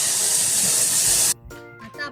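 Ground tomato masala paste hits hot oil in a Malvani-style fish curry pot, giving a loud, steady sizzling hiss for about a second before it abruptly drops to quieter, uneven crackles.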